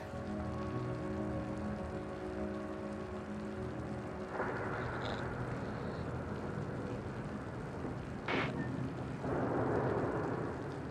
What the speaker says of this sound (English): The storm's raging.